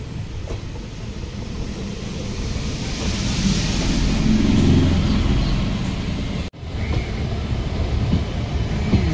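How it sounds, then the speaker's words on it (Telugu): Hyderabad MMTS local train passing close by, heard from a waiting passenger train at a station: a loud steady low rumble and rush with faint wheel clatter that swells mid-way, then a sharp thump before the roar carries on. "Hyderabad local MMTS."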